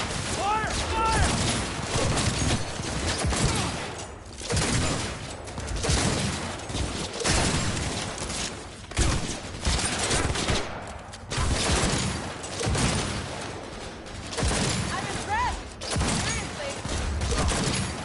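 Dense, continuous gunfire from the video game Cyberpunk 2077, with rapid overlapping bursts and booms filling the whole stretch, while voices shout over the shooting.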